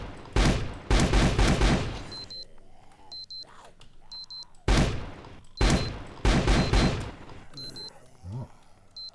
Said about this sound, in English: Or maybe a PvP gun.